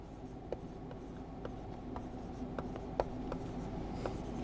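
A stylus writes on the screen of a Lenovo Idea Tab Plus tablet, making soft, steady scratching strokes with small sharp taps scattered through, fairly quiet and close, with no talking.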